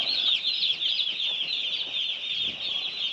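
Chickens settling in a chicken house at night, a dense steady chorus of soft clucks and chirps close by with faint rustling, no voices.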